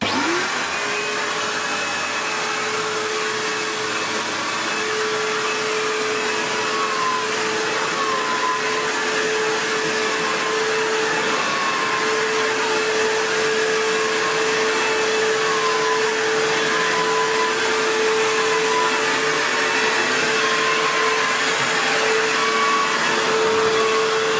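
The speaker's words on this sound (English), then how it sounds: "Let's see how it actually does at vacuuming before we get too excited." An Electrolux Cyclone Power Z1910 self-propelled vacuum cleaner runs steadily throughout, a loud continuous motor whine with a constant tonal hum and airy suction noise, no speech.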